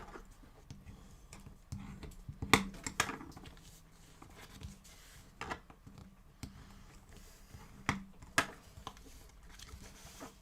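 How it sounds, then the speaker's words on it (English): Paper being folded and burnished for a square card box, soft scattered creases and rubbing scrapes at close range, intermittent and quiet. "And fold and burnish."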